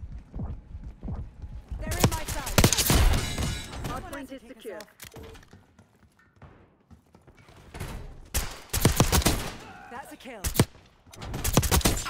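Pistol fire from a 9mm PM sidearm in the shooter game Black Ops 6, sharp cracking shots in quick bursts with pauses between, mixed with other game sounds and a voice talking over it.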